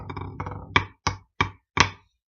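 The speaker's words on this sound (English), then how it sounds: "So we have buzz triplet, left tap triplet into a flam." A pipe band side drum plays a buzz triplet, then a tap triplet into a flam: a rolling, rattly opening followed by four sharp, separate strokes with clean gaps between them, close and alone.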